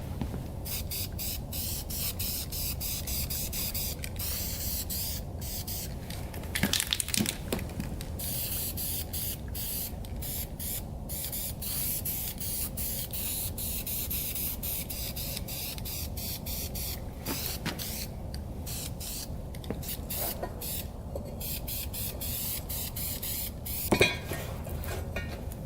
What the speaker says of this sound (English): Let's spray paint these now.